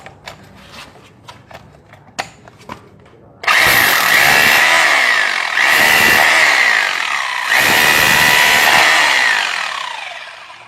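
An Enzo 2-26 rotary hammer drill running in chisel mode starts after a few light clicks and handling knocks, then roars loudly and continuously with rapid hammering, briefly dipping twice as the load changes.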